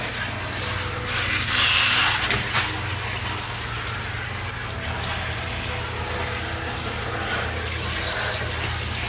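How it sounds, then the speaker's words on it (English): Water runs steadily from a tap into a dedicated sink while excess black and yellow dye is rinsed from spiral-dyed fabric, a loud continuous gush with slight splashing variation and no talking. "I'm just rinsing off the excess dye here. I have this dedicated sink."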